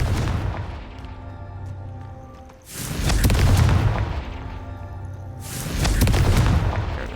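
Confringo spell blasts in the Hogwarts Legacy video game: two heavy, booming explosions a few seconds apart, each with a rumbling roar that swells and slowly fades.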